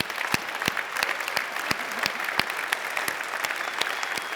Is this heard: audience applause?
yes